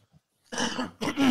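Two quick, close coughs in succession, rough and throaty, after a brief quiet moment.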